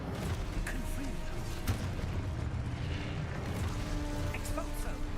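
Confringo fire spell blasts in Hogwarts Legacy, a dense rumbling barrage of booming impacts and crackling bursts layered with game effects, steady and loud throughout with faint voices mixed in.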